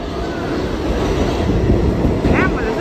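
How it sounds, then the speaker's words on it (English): An arriving New York F subway train, a Siemens model, fills the clip with loud, continuous rumbling and rail roar, and a brief squeal of wheels comes near the end. "So like the F train is coming right now."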